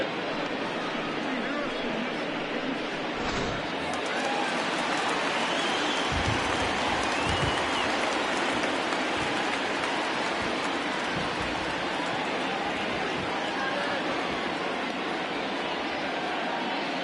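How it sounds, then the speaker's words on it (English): Heavy rain falls during a baseball game in MLB The Show 20, a constant dense hiss filling the whole stretch, with commentary voices over it. "It's raining cats and dogs out there."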